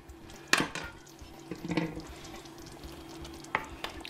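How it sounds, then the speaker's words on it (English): Beef tips in gravy are stirred in a pan, with a low bubbling sizzle and a few scattered clinks of a utensil on the pan. Quiet and close, with no talking. "what I'm going to do is just sit here and stir it"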